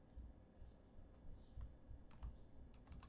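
Fingers type on a computer keyboard, producing soft, close, irregular key taps at a low level over a faint steady background hum, with no talking.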